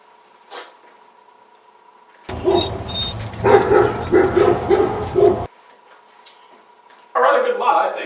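A pack of hunting dogs barks and yips in bursts, fairly close, with whimpers between barks, interrupted by stretches of quiet hum and mixed with the sound of a car, as people speak nearby.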